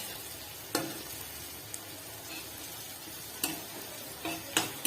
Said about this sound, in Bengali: তারপরে এটাকে খুব ভালো করে নেড়ে চেড়ে নিতে হবে